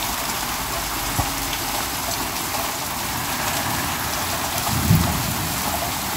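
Heavy rain pours down steadily in a flooding yard, a dense, constant hiss with a low rumble beneath and a couple of brief thumps.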